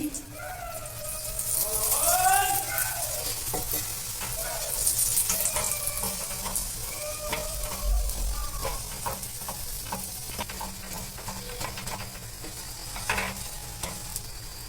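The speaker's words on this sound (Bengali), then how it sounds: "একটু সেঁকে নিচ্ছি এবার এটা পরোটাটাই আমি তেল দিয়ে দিচ্ছি" Pumpkin paratha fries in oil on a pan, a steady sizzle running the whole time with soft scrapes and stirring knocks, while someone talks over it.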